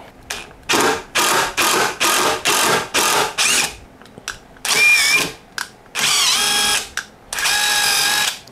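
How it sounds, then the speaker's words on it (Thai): A Stanley Fatmax impact driver spinning an ONISHI M6 tap into metal, running in a series of short, loud whirring bursts separated by brief pauses, with longer rattling runs toward the end. "M6 ใส่กับไขควงกระแทกของ Stanley Fatmax"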